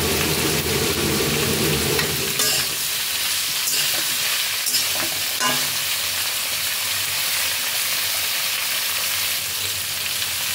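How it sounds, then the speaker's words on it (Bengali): Chopped vegetables frying in hot oil in a pan, a loud steady sizzle throughout with a few light stirring knocks early on, close and unbroken by speech. "এগুলোকে খানিকক্ষণ তেলের মধ্যে ভাজতে হবে।"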